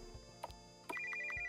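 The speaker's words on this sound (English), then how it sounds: "What kind of oldie-timey ringtone is that?" An old-fashioned telephone ringtone from the video game Silver Thread, with a few short tones and then a trilling ring that repeats in quick pulses, faint and alone.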